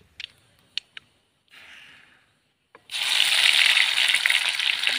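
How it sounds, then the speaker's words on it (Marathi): Cumin and mustard seeds splutter and crackle in hot oil over a wood-fired stove, a few sharp pops first, then a loud, steady close-up sizzle that fills the rest of the clip. "तर जिरी मोहरी छानपैकी तडतडली आहे"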